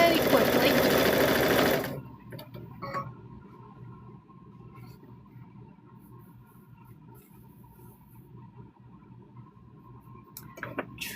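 Sewing machine stitching quilt pieces, a fast dense whir for under two seconds before it stops, leaving a quiet room with faint ticks and handling sounds.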